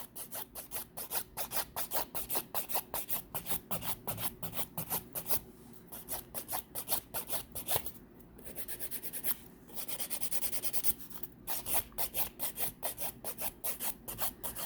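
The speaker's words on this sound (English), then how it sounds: "Just filing it, using round movements, shaping in the direction that we want our nail to go in." A nail file works an acrylic pink-and-white backfill nail in rapid round strokes, a close, faint, fast rhythmic rasping that pauses briefly a few times, with no talking.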